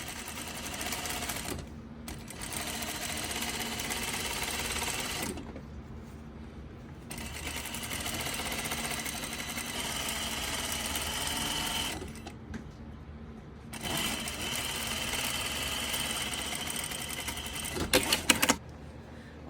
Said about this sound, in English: Sewing the sides together.